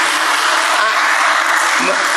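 Steady dense applause from a crowd at a church gathering for Bapak Bernardus, a continuous loud clatter of clapping hands with no break.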